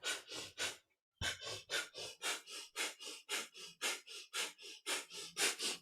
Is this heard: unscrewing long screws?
no